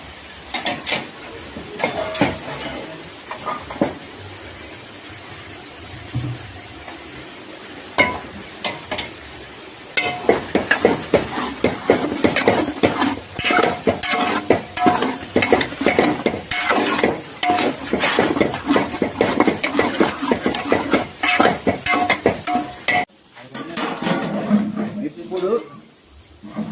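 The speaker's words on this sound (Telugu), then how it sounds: "బాయిల్ చేసుకున్న రొయ్యల్ని ఇందులో వేసుకుందాం" Boiled prawns stirred in a hot pan for a prawn and fenugreek-leaf curry: a steady sizzle runs throughout, broken by frequent scraping clicks of a spoon against the pan, with a voice speaking at times.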